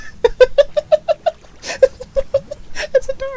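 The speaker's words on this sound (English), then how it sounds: "Look at it, it's a space cat!" The Astro Cat, a space cat in the video game Slime Rancher, gives a rapid series of bright, bouncy meow-like chirps in quick rhythmic bursts, loud and close, ending in a trilling flourish.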